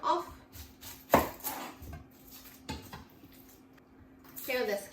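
Knife cutting the top and bottom off an onion on a board, a few sharp separate chops against the board with quieter handling sounds between them and a voice speaking briefly.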